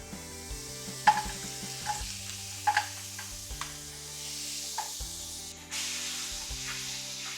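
Star margarine dropped into hot cooking oil in a pan for sisig, giving a steady sizzle with brief spattering pops and faint utensil clinks and no voices.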